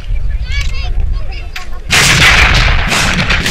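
An anti-tank cannon fires at a 1939 battle reenactment: a heavy blast erupts partway through, loud and close, followed by a rumbling roar and further booming, after a stretch of faint distant clatter.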